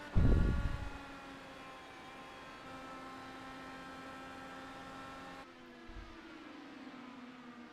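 Onboard engine of a race car in a sim racing game at Phoenix, a steady droning whine with harmonic tones that holds level, briefly drops and shifts pitch near the end, alone without talk after a loud opening burst.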